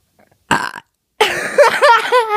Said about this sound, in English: I just burped right in your face.